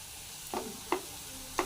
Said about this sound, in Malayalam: അതിനോടൊപ്പം നന്നായിട്ട് ഒന്ന് വഴറ്റിയെടുക്കണം